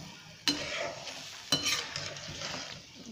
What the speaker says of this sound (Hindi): इसको मिक्स करेंगे पहले अच्छे से।